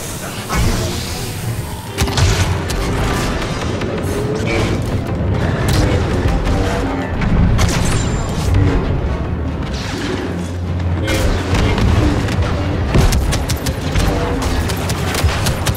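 Blaster gunfire and booms from Star Wars Battlefront 2 combat in tunnels, dense and continuous with repeated sharp bursts and low rumbling impacts throughout, some shots sounding distant, with faint voice snippets mixed in.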